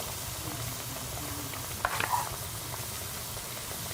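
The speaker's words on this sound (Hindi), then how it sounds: "इस तरह जो है वो आप पकौड़ियाँ फ्राई कर लें।" Dahi bhallay batter pakoras sizzle in hot oil, a steady, fairly loud frying hiss with a brief bubbling burst midway as more batter is dropped in, and no talk.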